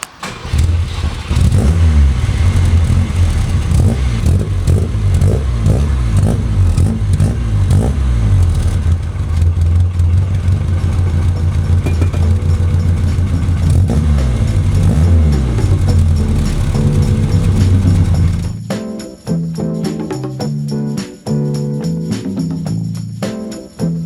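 A Lancia Fulvia coupé engine revs loudly and drives off, repeated throttle blips and gear changes building into sustained acceleration, then a shift to lighter rhythmic sounds at the end, without speech.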